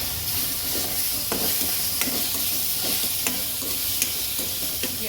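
Tomatoes go into a hot pan for aloo paratha filling, giving a steady close sizzle and hiss with repeated scraping stirs and light clinks of a spoon against the pan.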